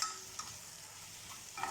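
Spices such as black pepper, cumin, coriander and salt stirred into a pan of frying eggplant moussaka, a soft, close scraping and gentle sizzle with a few brief louder stirs.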